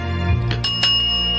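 A bright bell ding rings out near and clear, a sustained metallic tone with a sharp strike, sounding alone with no voices.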